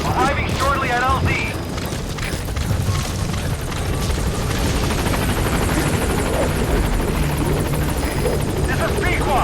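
A support helicopter in Metal Gear Solid 5 arrives at a landing zone with a loud, steady rotor roar and booming thumps, while a radio voice speaks over it.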